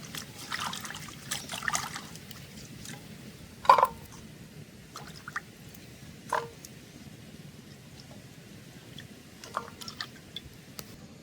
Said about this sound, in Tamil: நாங்கள் எல்லாத்தையும் வடிவாக கழுவி எடுப்போம்